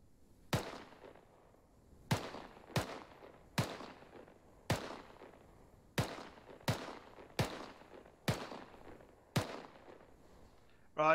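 Distant gunfire at a rifle range, about a dozen sharp single shots at irregular intervals, each with a brief echoing tail, faint and alone.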